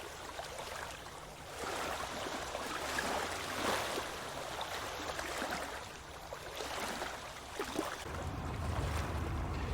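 Steady wash of waves breaking on the Lake Michigan shore, a continuous mid-level rushing surf with gusty swells and a low rumble building near the end, no voices.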